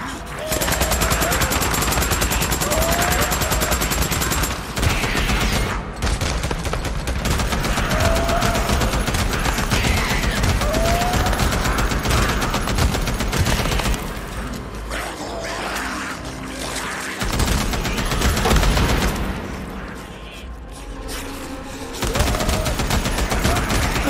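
Dense, continuous automatic gunfire in Days Gone, loud and sustained across the whole stretch with brief drops, mixed with game sounds and occasional voices talking.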